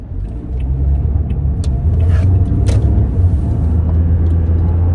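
Steady low engine and road rumble heard from inside a moving car, loud and continuous for about five seconds with no talking.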